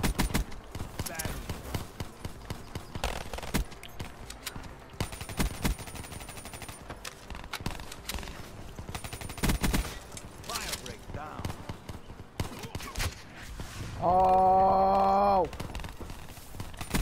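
Rapid gunfire bursts from a Black Ops 3 gun game match against bots, dense and continuous with overlapping shots, explosive hits and game effects, ending in a loud tonal in-game jingle near the end.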